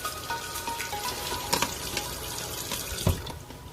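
Tap water streams steadily over a soap bar in a big tub while makeup brushes and sponges are cleaned, a soft continuous splash with a few brief louder splashes and knocks, no talking.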